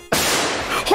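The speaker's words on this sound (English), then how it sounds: "You played the gunshot sound effect in my ear!" A gunshot sound effect played on a Twitch stream during a Sonic hacking contest race: a sudden loud blast opens the clip and its harsh, noisy burst fills the whole short moment, close and overwhelming.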